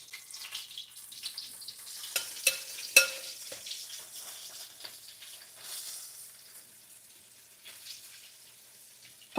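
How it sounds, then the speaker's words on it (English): Quiet crackling and sizzling of breaded frozen okra frying in oil, with occasional sharper pops and a soft scrape of a slotted spoon, no voices. "We are frying two things tonight."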